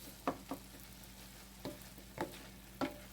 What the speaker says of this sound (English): So here go the onions and green peppers